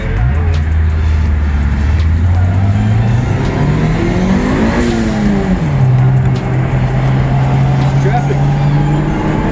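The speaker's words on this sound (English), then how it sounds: "Traffic." Road traffic roars past, loud and close, with a car engine's pitch climbing, peaking midway and then settling into a steady drone as it goes by.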